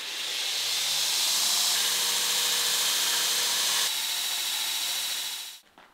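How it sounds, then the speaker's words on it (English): A Damascus steel billet with cold shuts is ground on a power grinder, a loud, steady, high-pitched abrasive hiss that shifts pitch partway through and cuts off abruptly near the end. "We're just gonna spend a couple minutes here and quickly grind this thing."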